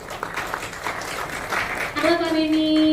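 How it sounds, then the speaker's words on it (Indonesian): Audience applause at a hospital ceremony in Jakarta marking a robotic surgery centre launch: steady, dense clapping fills the room, then a sustained electronic tone rises over it near the end. "tepuk tangan untuk Pak Beni"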